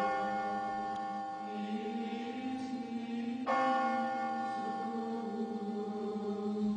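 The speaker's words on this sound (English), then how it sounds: "The bells rang out." Church bells ring out with long, resonant, overlapping tones and steady humming overtones; a fresh strike lands midway and the ringing carries on without pause.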